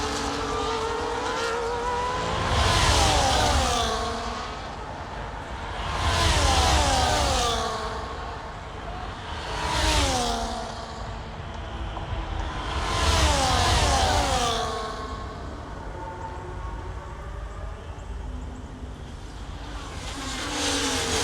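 An F1 race car engine in the video game EA Sports F1 24 at the Spanish Grand Prix in Barcelona, revving up and shifting through gears in repeated rising and falling sweeps, loud and steady with no talk.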